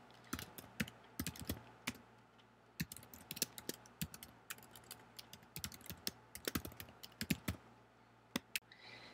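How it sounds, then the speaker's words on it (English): Someone types a command line on a computer keyboard, producing a steady run of crisp, close key clicks with irregular rhythm and brief pauses, with no voices. "we're going to type a specific command line."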